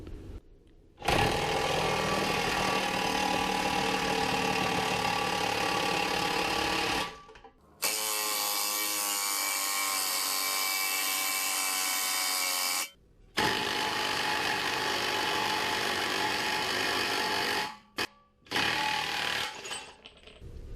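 A wheel bearing plate and clamp pressing an upper ball joint into a Toyota Tacoma front suspension, heard as a long steady mechanical whir and grind, loud and close, broken by a few brief pauses.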